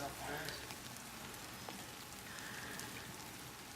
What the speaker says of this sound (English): Still raining, but the light's looking promising.